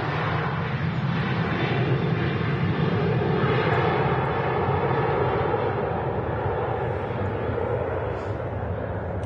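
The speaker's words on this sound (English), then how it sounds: "This aircraft on its way to London in Northern Ireland" A Boeing 737-800 departing Manchester Airport gives a continuous loud engine roar that holds steady for several seconds and fades slightly near the end, with no speech.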